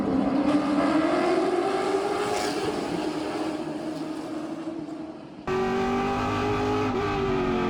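A race car drives on track during a race in a 15-car field, its engine note climbing steadily as it accelerates, dipping briefly, then surging back loud after a gear change, with no talk.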